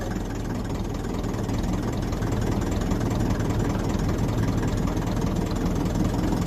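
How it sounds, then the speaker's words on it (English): A 1954 Ferguson TEF 20 diesel tractor engine labouring under load as it lifts heavy weight, a loud, steady, close rumbling chug with no pauses. "It's always good to hear the engine working when it's lifting."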